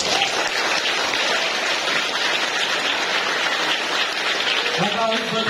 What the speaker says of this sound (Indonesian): Tepuk tangan untuk Darul Hasanah.